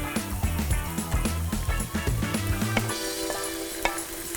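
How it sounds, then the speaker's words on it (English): Chicken pieces hit a hot pan with tender cooked onion for spicy Sichuan pepper noodles, sizzling loudly with scraping and clattering as they are stirred and spread, settling into a steadier fry. "I'm going to add in my chicken."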